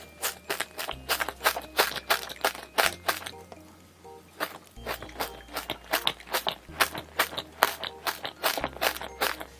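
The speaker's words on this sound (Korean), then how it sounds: "안에 이렇게 카다이프도 꽤나 들어있고 엄청 바삭바삭합니다" Loud, close crunching from bites and chewing of a crispy kataifi-filled chocolate dessert, rhythmic crackly bursts in quick repeated runs with brief pauses between mouthfuls.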